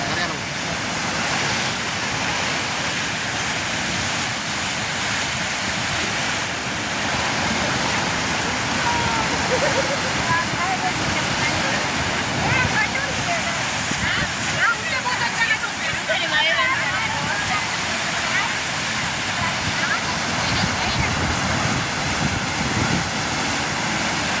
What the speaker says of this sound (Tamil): காட்டுவார் பாலம் சரியான்னு தான் நினைக்கணும் அந்தளவுக்கு தண்ணி பாயுது